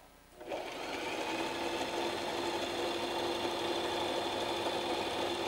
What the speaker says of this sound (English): you gonna go buy you a sewing machine?